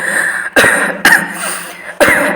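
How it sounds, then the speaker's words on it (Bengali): A person coughs three times in quick succession, loud and close, each a sharp harsh burst separated by brief pauses. "কেন রে, এত কাশছিস কেন?"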